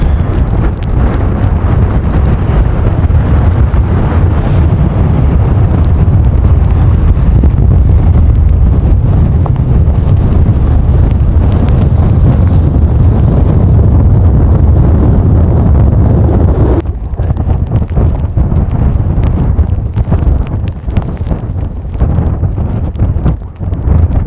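Strong wind buffets the microphone on the exposed mountain top of Bucks Crag near Coniston in the Lake District, a loud, continuous roar that runs throughout with no voices and dips only briefly.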